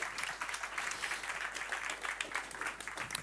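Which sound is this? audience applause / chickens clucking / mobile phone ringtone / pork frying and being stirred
audience applause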